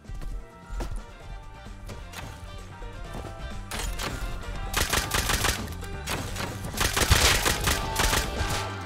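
Rapid bursts of gunfire in the video game Rust, loud cracking shots in quick volleys that grow denser and more intense toward the end, with no talk.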